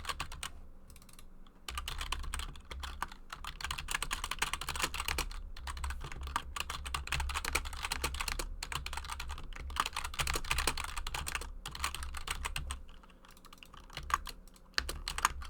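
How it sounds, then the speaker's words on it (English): Rapid, continuous keyboard mashing during an online Diplomacy game, a dense clatter of keys hammered close up for about fifteen seconds with a brief lull near the start and no talking. "so I mashed my keyboard to get it out"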